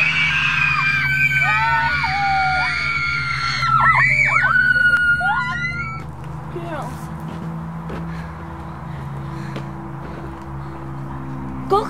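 People scream in a ghost story, high shrieks and yells layered with talk over a steady low hum, loudest for the first six seconds before settling into quieter voices.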